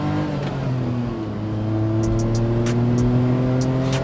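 A 1998 Daihatsu Hi Jet Super Jumbo kei truck accelerates at full throttle, its small engine droning steadily and climbing in pitch from inside the cab, with no talking.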